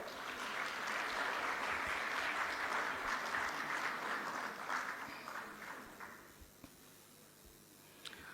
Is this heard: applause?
yes